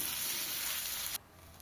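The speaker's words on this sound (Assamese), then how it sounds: "এতিয়া ইয়াতে মই বাদাম কেইটামান দিলোঁ আৰু বইল কৰি থোৱা আলুখিনি দি ল'ম" Peanuts and boiled potatoes fry in a pan with a soft, steady sizzle that cuts off abruptly partway through, leaving a faint low hiss.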